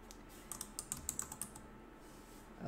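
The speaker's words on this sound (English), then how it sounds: "let me type it in, lest I forget." Quick bursts of keystrokes on a computer keyboard as an email address is typed, clicking in a rapid uneven rhythm for about a second and a half, close and fairly quiet, then a pause.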